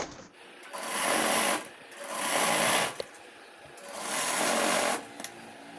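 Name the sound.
sewing machine stitching a straight seam on petticoat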